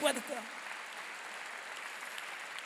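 A church congregation at a Korean theological seminary graduation worship service bursts into applause, a short loud clap burst at the start fading into sustained, softer, crowd-wide clapping in a large hall.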